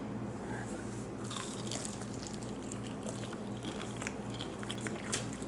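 Biting and chewing into a crispy, seasoned chicken wing, close and fairly soft, with crunchy crackles over steady low background noise.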